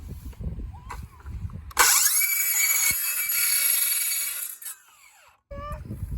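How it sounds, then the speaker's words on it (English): A skill saw lying flat on the ground cuts through plastic drainage pipe, with a loud, steady whining rip lasting a few seconds that then winds down. Brief talk is heard before and after the cut. "The fastest way though is if you have a skill saw, is you can lay it down flat on the ground"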